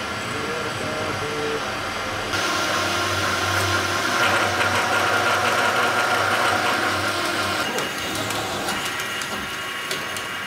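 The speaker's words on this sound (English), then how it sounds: "We're gonna do some machining." Machining on a machine tool during a shipping container hitch build, with metal stock marked by center punch and scribe lines; a steady, loud mechanical drone runs throughout with grinding texture and a brief rise in the middle.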